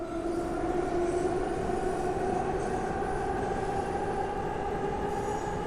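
Prague metro train in a video game runs through a tunnel with a steady rumbling roar and a sustained wheel whine, constant and close throughout, no voices.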